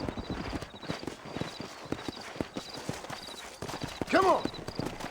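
Horses trot in Red Dead Redemption, a quick rhythmic clip-clop of hooves on dirt running the whole way, with a short horse snort or whinny near the end and some game dialogue.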